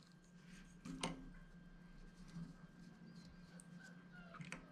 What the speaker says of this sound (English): That's my dog freaking out.